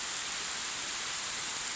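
Rain falls steadily outdoors, a soft, even hiss of drops that continues without pause and with no voice or singing over it.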